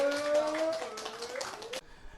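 An audience at a Beyblade X tournament applauds the third-place finisher called to the podium. A short burst of clapping rises under a sustained tone, then cuts off abruptly.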